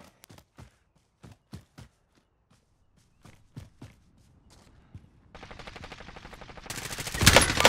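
Gunfire in the video game Call of Duty Warzone: sharp single shots in an irregular sequence, then a building stretch of rapid automatic fire that grows loud at the end.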